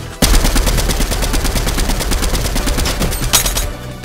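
Continuous rapid automatic gunfire from the video game Fortnite, loud and close, runs in an unbroken burst for nearly four seconds before cutting off, with no talking over it.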